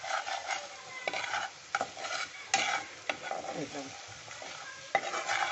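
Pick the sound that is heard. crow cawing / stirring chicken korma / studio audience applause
stirring chicken korma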